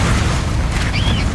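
A battle cruiser explodes in the video game Ratchet and Clank Rift Apart, a loud, dense booming blast with roaring rumble that fills the whole short moment without any voices.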